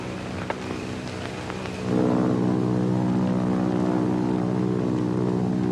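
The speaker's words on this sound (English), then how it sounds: "Do you hear a plane?" An airplane drones overhead, its steady engine roar swelling in abruptly and holding loud and continuous in an outdoor film scene.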